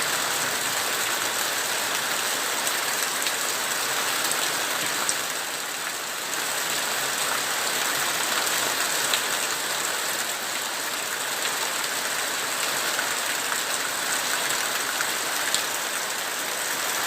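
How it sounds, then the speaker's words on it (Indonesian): Heavy rain pouring down steadily for the whole stretch, a dense, even hiss of drops on surfaces with no pauses and no voices. "Hujan deras"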